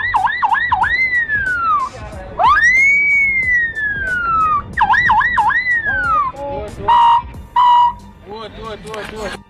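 A voice mimics a police siren, cycling through rapid wails, long swooping tones and short bursts, loud and close.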